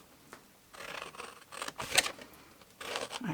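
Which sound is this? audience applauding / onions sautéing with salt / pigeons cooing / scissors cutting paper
scissors cutting paper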